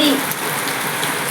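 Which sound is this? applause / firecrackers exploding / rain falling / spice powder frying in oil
rain falling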